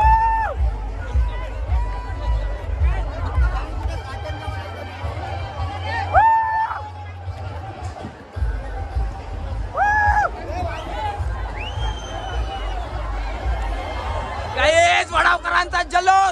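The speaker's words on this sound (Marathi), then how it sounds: "गाईस वडावकरांचा जल्लोष" Crowd cheering and whooping at the Vadhav Bahiridev village fair in 2025 as the ceremonial pole is raised, loud busy babble with shouts rising over a low rumble and bursts of cheers toward the end.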